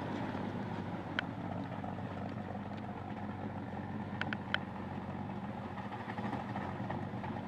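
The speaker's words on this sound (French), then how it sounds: "Donc voilà tout de suite un très joli ralenti. Et puis un très beau son." A 1971 Oldsmobile convertible's engine idles steadily at a low, even rumble, with a few faint clicks on top and no one talking.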